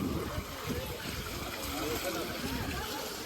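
Ganges water pours from a temple channel in a steady, close broadband rush with no breaks, and a voice may murmur faintly beneath the flow.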